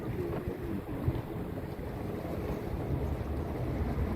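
Tour boat cruising a Copenhagen canal, with a steady low engine and water rumble plus wind buffeting the microphone, continuous and fairly quiet with no voices.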